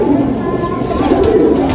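Golden Kamagar pigeons cooing close by in a low, continuous murmur, with a voice talking faintly over the birds.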